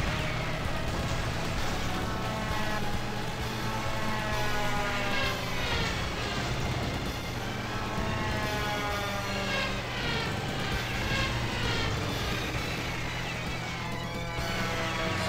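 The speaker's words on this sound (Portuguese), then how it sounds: "Helicóptero maldito." A helicopter in the arcade shooter Metal Slug: a dense, continuous roar of rotor and engine noise holds at an even loud level, blended with other busy game sounds throughout.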